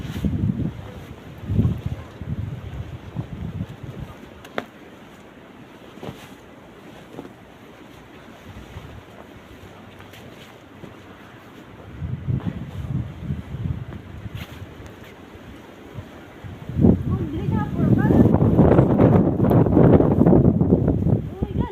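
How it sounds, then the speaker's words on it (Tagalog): Strong gale-force blizzard wind in Maine roars and buffets the microphone in gusts. It is loudest and most sustained near the end, with voices heard at times. "Grabe ako sa hangin."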